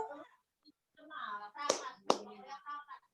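Two sharp hand claps ring out from a group during a team-building coaching session at a health centre, the first loud and the second following a beat later, with soft voices murmuring around them.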